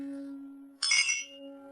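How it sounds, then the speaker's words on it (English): Glasses clink together in a celebratory toast at a gathering honoring a tech competition award, a single bright burst of clinking over a steady low hum, close and moderately loud. "Let's all raise a glass to Xu again."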